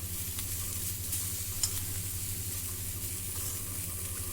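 A snack fries in oil in a pan and is turned with a steel spatula: a constant close sizzle with a few faint scraping taps.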